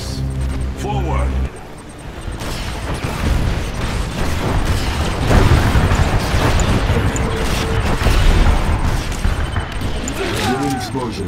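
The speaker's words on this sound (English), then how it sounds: "Drone explosion detected." Booming explosions and gunfire bursts from Command & Conquer 3: Kane's Wrath rumble through a noisy skirmish battle on the Island Paradise map, with voices talking over the chaotic mix.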